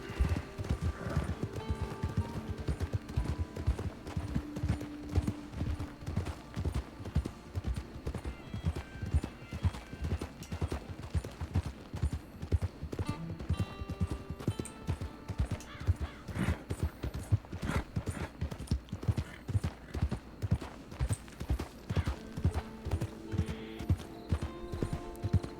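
Two horses walk with riders in the WildRP western roleplay video game, set in 1903. Their hooves clip-clop in a quick, steady rhythm throughout, with a few faint voices now and then.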